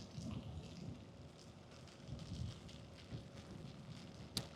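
Heavy rain falls steadily over an industrial estate in Thailand in a soft, continuous wash of patter, with one sharp click near the end.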